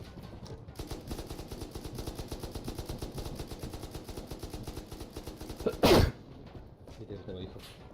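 Rapid automatic gunfire in the survival game Rust, fired at a helicopter, rattles as a dense steady burst of shots for several seconds, broken by one sharp louder crack near the end, with voices talking over it.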